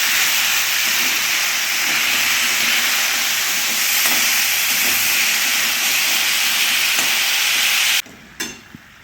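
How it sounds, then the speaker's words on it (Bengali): Pumpkin fries in a pan, giving a loud, continuous, steamy hiss and sizzle close up, with a few faint stirring taps, until it cuts off abruptly near the end, followed by a couple of brief knocks. "কুমড়োটাকে ভেজে নিচ্ছি।"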